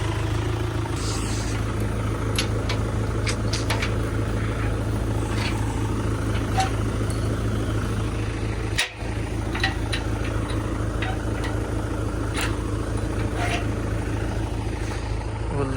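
A farm tractor runs at a steady idle outdoors, a low continuous engine drone with light clatter and scattered clicks over it, one brief dip near the middle.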